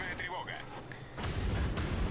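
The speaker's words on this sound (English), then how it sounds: "this guy just keeps on launching the shells at me here" Naval artillery shells fire in the World of Warships video game, two heavy booming blasts landing after a brief stretch of game sounds, loud and rumbling with a voice talking underneath.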